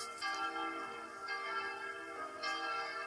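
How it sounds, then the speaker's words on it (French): Church bells ringing from the bell tower of a village church, heard from some distance as faint repeated chimes with lingering ringing tones. "les cloches, on les entend d'assez loin"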